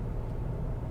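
A BMW X5M F85 towing a trailer pulls away at quarter throttle, a steady loud low engine rumble with no talking.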